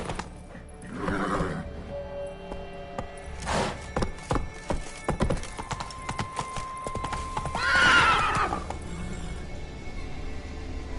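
Hooves clip-clop and pound at a gallop in The Witcher 3, with a horse whinnying and snorting over the game's background sound, fairly close and steady.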